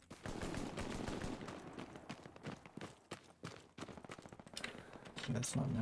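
Rapid bursts of machine gun fire crackle in the Hell Let Loose battlefield game, coming in quick rattling strings mixed with scattered shots while a player talks over the combat.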